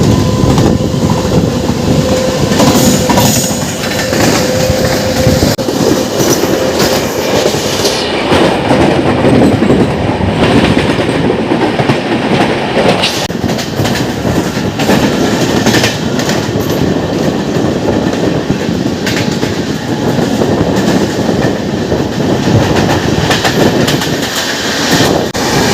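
The Howrah–CSMT Mumbai Duronto Express passes alongside a moving train on the Santragachi–Jhargram line, a loud, steady roar of rolling wagons with rhythmic wheel clatter and occasional squeal that continues throughout.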